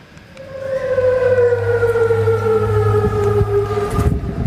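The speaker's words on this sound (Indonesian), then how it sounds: "Sirene meraung di kota Amman saat angkatan bersenjata Yordania mencegat serangan rudal Iran" An air raid siren wails over Amman, Jordan, during an Iranian missile attack, rising in and holding a loud, steady tone for several seconds before a brief noisy burst near the end.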